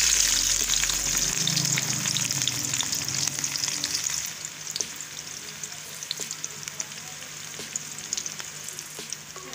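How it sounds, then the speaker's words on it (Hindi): Onions sizzle and crackle steadily in a tablespoon of hot oil for kadhi pakora, a close, continuous frying hiss with small pops and no voices. "1 बड़ा चम्मच मैंने ऑयल का शामिल किया है, प्याज शामिल कर रही हूँ"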